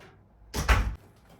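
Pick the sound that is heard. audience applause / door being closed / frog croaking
door being closed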